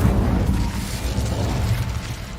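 The Incendio fire spell cast in Hogwarts Legacy, a loud, dense whooshing roar of flame with a heavy low rumble, sustained steadily for a couple of seconds without speech.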